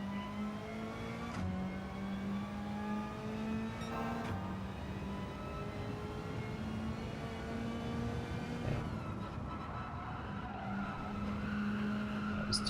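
Car drifting in the racing game Gran Turismo 7, with a continuous engine drone and long tire skid squeal lasting throughout, its pitch shifting as the car slides.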